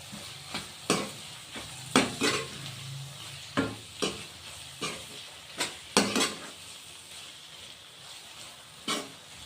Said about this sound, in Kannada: ಕೊತ್ತಂಬರಿ ಹಾಕ್ಕೊಂಡ್ಬಿಟ್ಟು ಒಂದ್ಸಲ ಮಿಕ್ಸ್ ಮಾಡ್ಕೊಳ್ಳೋಣ